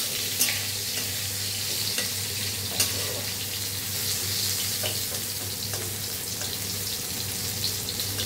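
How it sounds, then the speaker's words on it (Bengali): Cauliflower florets frying until reddish-brown in a pan, a steady close sizzle with occasional scraping stir strokes throughout, and no talking. "আমার ফুলকপি ভাজা হয়ে গেছে, লাল লাল করে ভেজে নিয়েছি।"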